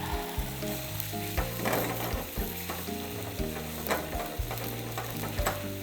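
Red wine sauce with a bunch of thyme reduces in a hot pan, a dense, continuous sizzle and bubbling crackle that holds steady throughout, with faint clinks in the background.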